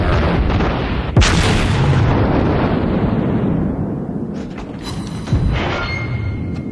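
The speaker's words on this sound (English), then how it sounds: "2 South Carolinas, battleships dueling, cruisers engaging." South Carolina battleships firing their guns in the naval video game World of Warships, with two heavy booming blasts a few seconds apart over a loud rumbling battle din that fades between shots.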